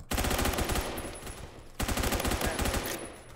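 Rapid automatic gunfire from the Roblox shooter Phantom Forces on the Zavod map, two long sustained bursts separated by a brief gap, loud and close.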